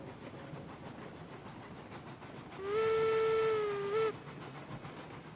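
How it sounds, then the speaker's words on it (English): A single plain steam locomotive whistle in the video game Railroads Online blows for about a second and a half over low rumbling background noise, then cuts off. "That's one thing I don't like about this game is the whistles."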